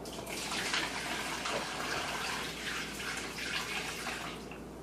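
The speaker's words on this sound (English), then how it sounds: "we're going to take the chilled brine mixture and pour it over the roast" Chilled brine is poured over a pork roast inside a cooler, a steady close splashing and gurgling stream of liquid that runs continuously and eases off toward the end.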